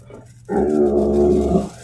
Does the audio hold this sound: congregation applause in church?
no